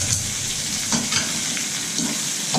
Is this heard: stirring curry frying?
yes